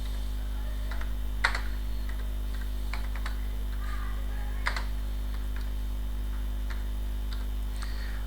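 Typing on a computer keyboard while filling in a document template: scattered light key clicks in short bursts, close and fairly soft, over a steady low electrical hum, with no talking.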